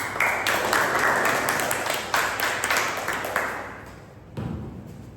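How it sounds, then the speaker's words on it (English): Members at a Toastmasters club meeting applaud the grammarian, a short burst of close, loud clapping that fades out, followed by a brief thump. "Please give her an applause."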